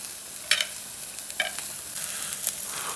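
Onions being stir-fried on a roadside iron griddle alongside squid and octopus, giving a steady sizzle broken by a few sharp scraping strokes of a spatula, close and clear with no talking.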